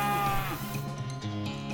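A cow in the video game West of Loathing moos loudly and up close, one drawn-out harmonic low that slides and wavers before trailing off, with no talk over it.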